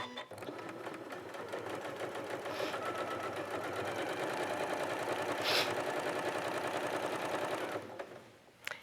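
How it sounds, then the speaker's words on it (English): A sewing machine runs steadily, stitching a fabric stem onto a background piece for a free-form appliqué quilt, its rapid mechanical rhythm close and continuous before stopping near the end. "go ahead and sew that together just with a 1/4 inch seam allowance"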